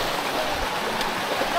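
Water from the top of Antong Falls in Sison, Pangasinan rushes in a steady broadband hiss, close and fairly loud, without pauses.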